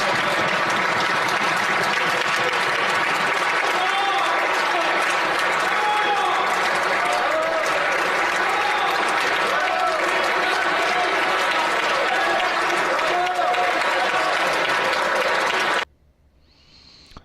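Sustained applause fills a parliamentary chamber for about sixteen seconds: dense steady clapping with shouted voices and hooting calls mixed in, then it cuts off abruptly.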